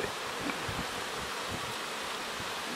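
Steady, dense buzzing of many honeybees at the hive, close and continuous, with a faint rustle underneath and no voices.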